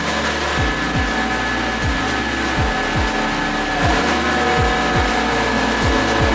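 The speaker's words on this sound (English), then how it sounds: "above the noise of the builders outside" Builders' power tools running outside, a continuous loud whirring drone with repeated short rhythmic pulses, steady through the whole stretch with no talking.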